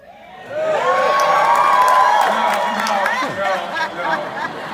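A conference audience cheers, whoops and shouts in a large hall, loud and sustained throughout, with scattered high yells and some applause rising over the roar.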